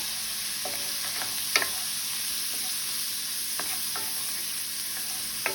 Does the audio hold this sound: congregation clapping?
no